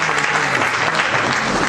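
Brief burst of dense audience applause at a live concert during band introductions, steady loud clapping from a crowd without talk.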